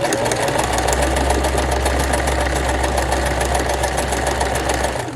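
A sewing machine stitches steadily along hand knitting near the knit stitches, presser foot down, with a rapid continuous mechanical whir and a low motor hum running evenly throughout, close and fairly loud.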